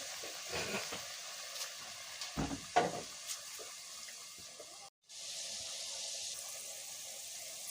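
Potato chips deep-frying in oil, a steady soft hiss of bubbling with a few louder splashy bursts near the start and a brief dropout midway before the sizzle resumes.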